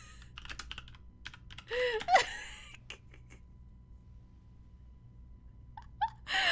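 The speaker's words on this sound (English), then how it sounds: "I'm gonna type this." Rapid keystrokes tap on a computer keyboard in scattered bursts, close and fairly quiet, with a couple of louder clicks and brief pauses between.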